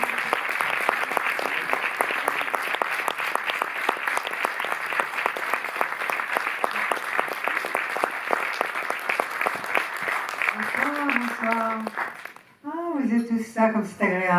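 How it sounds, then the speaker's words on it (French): Sustained applause from a large audience at the Cinémathèque in Paris, dense steady clapping that fades out near the end, followed briefly by a voice speaking in French. "Merci de leur faire le meilleur applaudissement."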